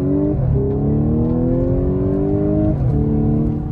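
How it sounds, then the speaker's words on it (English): A 2014 Audi S5 launches hard in sport mode from a brake-held start, its engine roaring loud and close with rising revs that drop briefly at each gear shift, then climb again, with no talking. "put your foot on the brake, put your gas down all the way, and it goes."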